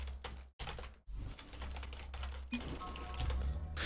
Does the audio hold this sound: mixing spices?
no